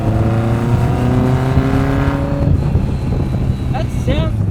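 A car engine revs hard at high RPM close by, a loud sustained roar climbing in pitch and then easing off, with a brief voice heard near the end.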